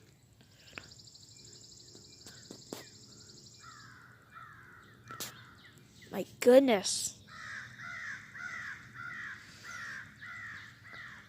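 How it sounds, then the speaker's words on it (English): Several crows caw repeatedly near a parked delivery truck outdoors, their harsh calls coming in rhythmic bursts, with someone speaking briefly between them and faint background chirps. "so many crows"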